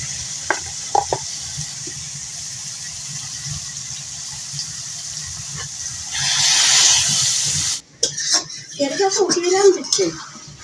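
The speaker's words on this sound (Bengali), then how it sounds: "বড় মাছ তেজপাতা দিব একটু গরম মশলা দিব আর ময় মশলা বেশি করে দিয়ে রান্না করবো" Big fish cooking in a pan with bay leaf and garam masala, a steady low sizzle under a burst of louder hissing frying, followed by someone talking close by.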